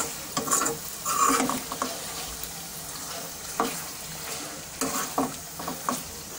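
Food frying in a pan after a tablespoon of cumin powder is added, stirred steadily: scraping strokes over a constant sizzle, with sharper clinks and scrapes at intervals, close and fairly quiet, no voices.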